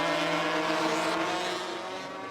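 Yamaha and Honda TZ250 two-stroke racing motorcycles at the Imatra road race, a steady high engine wail holding loud and close throughout, easing slightly toward the end.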